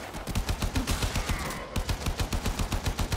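Rapid automatic gunfire in the Warframe video game: a fast, even burst of close shots, roughly a dozen per second, running continuously with a brief break near the middle.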